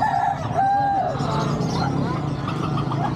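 A Rhode Island rooster crowing at a market, one clear crow near the start over background bustle and a voice talking.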